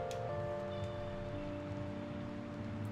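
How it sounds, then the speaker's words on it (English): Rain falling in the video game Persona 5, a soft, steady patter of rainfall underneath sustained background music, quiet and continuous with no talk. "It's raining."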